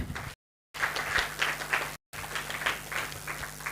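Audience clapping at the closing ceremony of the East African Summer School on Optics and Lasers, a steady patter of hands with two brief gaps, moderately loud over a low steady hum.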